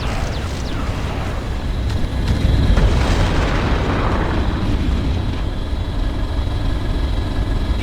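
Explosion of a destroyed enemy aerodyne in the Ground Control strategy video game, a loud dense rumbling boom that swells around the middle and keeps roaring steadily over a low engine-like drone.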